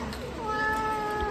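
A newborn kitten, about a month old, meows in a domestic room; a faint, thin high cry rises briefly and holds near the end, over low background noise.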